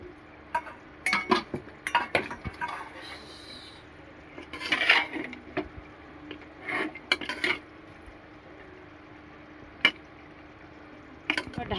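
A utensil scrapes and clinks against a cooking pot as green chili and mango leather (aamsatta) are stirred into pulao, giving irregular close scraping strokes and sharp metallic taps over a quiet background.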